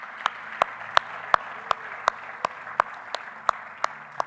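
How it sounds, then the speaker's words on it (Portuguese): A church congregation claps in slow unison, sharp even beats about three times a second over a soft hum of the room, fairly quiet and without voices. "Você pode aplaudir a Deus pela palavra dele?"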